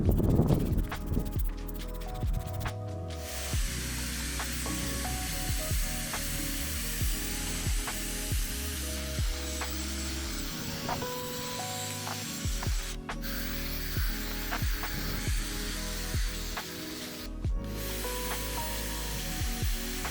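A cordless drill-driver spins a drill brush against car wheel rims on a Renault Clio IV that had gone a year unwashed, giving a steady motor whine over continuous scrubbing and rubbing, with brief pauses as the drill stops and restarts.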